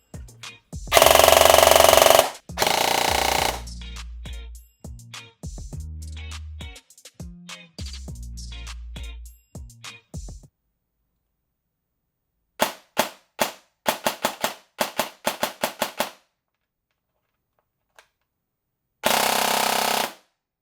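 An airsoft gun fitted with a Protype high-torque motor fires in loud, sharp bursts and single snappy shots close by, with long rapid strings early on, shorter clusters later, and quiet gaps between.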